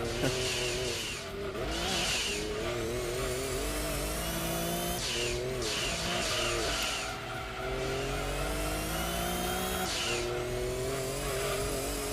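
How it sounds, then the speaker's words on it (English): A tuned Mazda RX7 in the racing video game Gran Turismo 2 revs hard under constant engine noise, with the turbo whine repeatedly rising in pitch as it accelerates through gear changes, loud and close, with no talk over it. "hear that turbo kicking in?"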